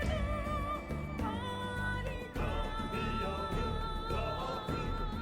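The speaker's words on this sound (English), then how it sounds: "I believe it's meant to be the Wyverian language, or the Monster Hunter language in general." Choir voices sing in the invented Wyverian language over orchestral backing in Monster Hunter World game music, with sustained chords at a steady level and brief dips between phrases.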